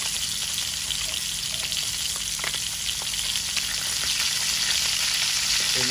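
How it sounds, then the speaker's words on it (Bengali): River fish frying in a pan for a Bangladeshi fish and potato curry, a steady loud sizzle with bright crackling spatters running throughout, no talking. "আমাদের মাছ এক পিঠ ভাজি হয়ে গেছে, এখন উল্টা নিয়ে আছে।"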